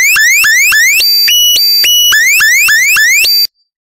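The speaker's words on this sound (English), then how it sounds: "I can hear an alarm. And it's a very loud and unpleasant sound." A loud, harsh electronic alarm repeats rising sweeps in a rapid cycle, interrupted by a steady two-tone blare, then stops abruptly after about three and a half seconds.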